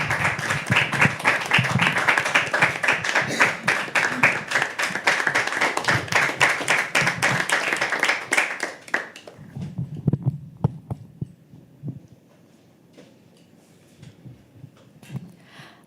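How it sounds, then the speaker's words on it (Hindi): An audience at a live poetry open mic claps in dense, loud applause for about nine seconds, then thins to a few scattered claps and low murmur before quieting near the end. "एक बार जोरदार तालियों से स्वागत कीजिए नूर।"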